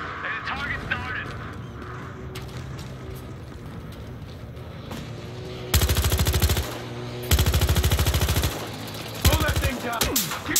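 Bursts of automatic gunfire in the Battlefield Hardline video game, with a quieter stretch of combat followed by three loud, sustained rattling volleys near the end, under voices.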